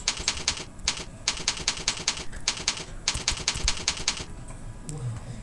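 Rapid, crisp clicks of fingers typing on a computer keyboard, arriving in quick bursts with brief pauses, close and clear with no talking.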